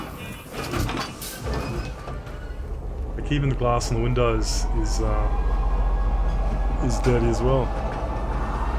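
A train pulling into a station in the Star Citizen space game, with a low rumble building and holding steady, mostly under someone talking, plus some mechanical clunks.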